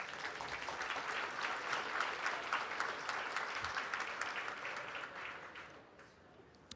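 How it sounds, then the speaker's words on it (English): Steady applause from a large audience at a charity sports gala, a dense wash of many hands heard from a distance, holding level for several seconds and then fading. "I can hear some applause"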